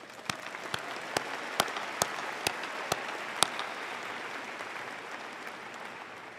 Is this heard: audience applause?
yes